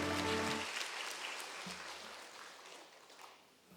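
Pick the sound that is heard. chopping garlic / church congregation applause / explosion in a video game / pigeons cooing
church congregation applause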